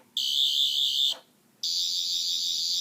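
A piercing high-pitched electronic whine from a metal sonic screwdriver replica sounds in two steady bursts separated by a short gap, close and fairly loud.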